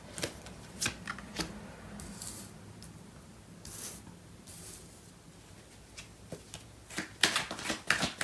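Tarot cards are shuffled by hand, giving soft riffling flicks and taps in an irregular rhythm. The sound is close and fairly quiet, builds to a busier flurry near the end, and there is no talk.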